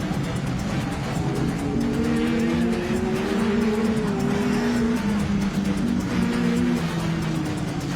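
Racing cars at United Downs raceway in Cornwall roar loudly and continuously as they jostle and overtake, engine notes rising and shifting under a constant dense wall of track noise.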